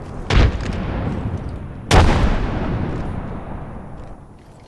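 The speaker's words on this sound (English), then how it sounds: "Frag grenade sent." Two heavy booms from frag grenades going off in a video game, each a loud sudden blast with a rumbling tail that fades out, the second one slightly stronger.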